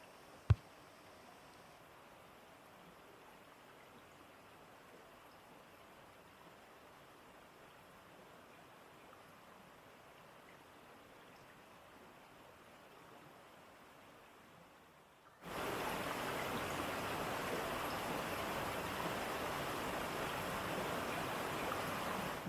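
Water flowing at Vattappara waterfall and its stream, running low in the dry season: a faint, quiet hush gives way abruptly to a loud, steady broadband rush for the final seconds.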